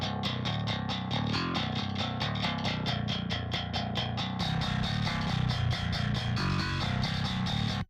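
Heavy distorted metal bass riff played in a steady chugging rhythm through a second amp channel, thick and gritty with a rounded, fattened low end, no voices.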